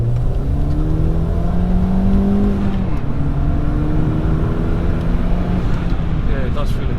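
A 250bhp Ford Fiesta ST accelerates along a test road in manual with sport mode on, heard from inside the cabin as a steady engine drone with rising and shifting tones. Occupants' voices can be heard talking over it.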